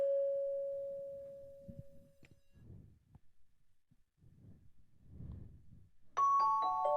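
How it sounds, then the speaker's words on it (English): Soft celeste-style mallet tones: a sustained sine-like note fades slowly, followed by gentle, sparse low plucks and a brighter chime-like chord that rings out near the end, quiet and clean. "I really like these mallets from Expand."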